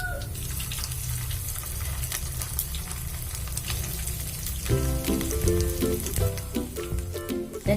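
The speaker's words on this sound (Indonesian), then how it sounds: "Selanjutnya kita goreng semua adonannya sampai habis ya." Rice flour snack batter made with leftover rice deep-fries in hot oil, giving a steady, close bubbling sizzle that carries on for several seconds, with tonal clinks and rattles joining partway through.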